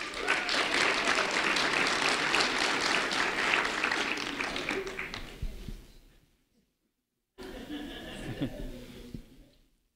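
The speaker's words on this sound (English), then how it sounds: "a round of applause for Kenneth Edmond" An audience claps for a local high school junior being honoured at a community recognition event, steady applause for about five seconds before fading out, then a brief second burst of clapping and chatter.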